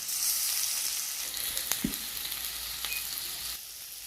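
Spice paste and chopped tomato fry in hot oil for a Bengali village-style egg and potato curry, a steady close hiss with a couple of brief clanks and stirring knocks.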